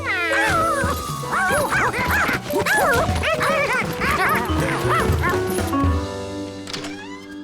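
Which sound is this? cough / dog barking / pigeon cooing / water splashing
dog barking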